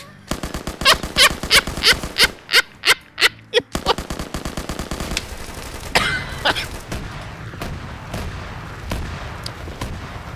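Gunfire in the shooter game High Command: sharp rapid bursts of automatic fire crack close and loud in a rhythmic string, then give way to denser, scattered shots and explosions.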